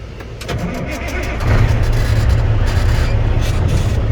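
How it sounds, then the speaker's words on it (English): A truck engine cranks and catches, then settles into a steady low rumble that grows louder after starting and keeps running. "After that goes off, I'll start the truck."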